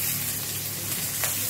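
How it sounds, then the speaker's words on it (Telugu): Carrot, beans, capsicum and green chilli hiss steadily in a pan of frying onions for vegetable pasta, a close, continuous sizzle with no talking. "మనం క్యారెట్, బీన్స్, క్యాప్సికమ్ ఇంకా గ్రీన్ చిల్లీ వేసుకుందాం"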